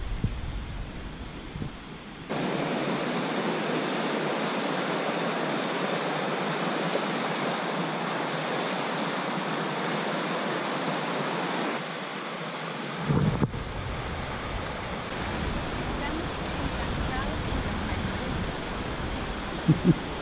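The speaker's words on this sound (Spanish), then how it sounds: "En la caída de agua esa impresionante." A waterfall in Misiones, Argentina roars as a loud, steady broadband rush of falling water that fills the whole stretch without a break, heard close and continuous with no talk over it.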